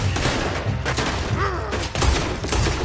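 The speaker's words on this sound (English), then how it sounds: "I'll riddle you with bullets." Gunfire in a PS4 video game, a chaotic volley of heavy thuds and shots mixed with a brief shouted voice amid the loud action.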